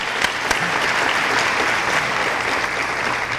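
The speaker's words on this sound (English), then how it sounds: "Another big round of applause for that group." Sustained applause from a gala audience honoring Hall of Fame award recipients, dense and even clapping throughout with no voices on top.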